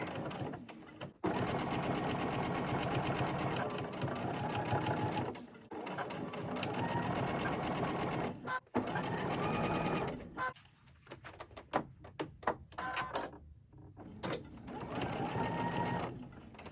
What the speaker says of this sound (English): And we're going to sew that together.